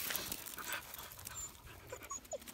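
A Greenlandic sled dog pants softly on an icy walk, quick faint breaths close by with slight outdoor noise.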